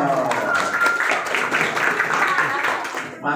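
Junior high school students in a classroom during a police traffic-safety session clap together, the applause mixed with cheering voices and ending abruptly.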